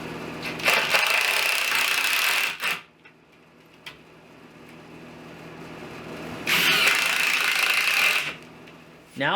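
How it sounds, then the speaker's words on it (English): Power drill driving 3-inch screws into studs while building a basement bar in a shop: two loud sustained bursts of drilling, each a couple of seconds long, separated by a quieter gap with a brief click. "I'm going to drive 3-inch screws with the 40-inch studs all the way along"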